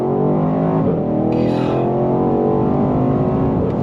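2022 BMW Alpina B8 sedan accelerating hard on throttle, loud engine note climbing steadily in pitch with a brief dip at a gear shift, heard from inside the car.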